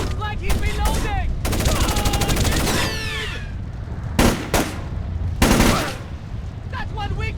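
An enemy firing a gun in the stealth video game Splinter Cell: Chaos Theory, a loud rapid burst of automatic shots followed by a couple of separate heavy cracks, with voices shouting between them.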